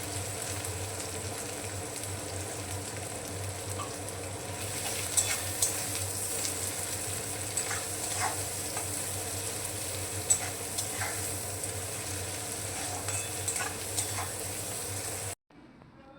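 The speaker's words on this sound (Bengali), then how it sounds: "এতে দিয়ে দিচ্ছি বেশ খানিকটা পেঁয়াজ কুচি। এটা ভেজে নেব।" Chopped onions sizzle in hot mustard oil in a wok, a continuous close hiss with scattered pops and occasional stirring scrapes, ending abruptly.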